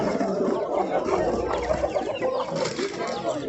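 Busy outdoor rooster market din with chickens clucking close by and a rooster's calls mixed into the crowd chatter and general noise.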